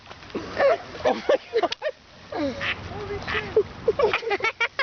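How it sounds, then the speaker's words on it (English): Duck quacking close by in a fight between a mother duck and a seagull, with repeated sharp quacks scattered across the clip, some overlapping. "Hey, look, another duck is coming."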